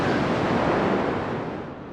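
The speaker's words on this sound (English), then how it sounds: "that's a pretty strong wind gust." A strong wind gust roars during a blizzard, a loud broad whoosh filling the short span and easing slightly toward the end.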